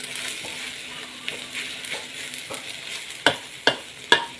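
Food frying in a pan with a steady crackling sizzle, broken late by three sharp metallic taps of a utensil on the pan.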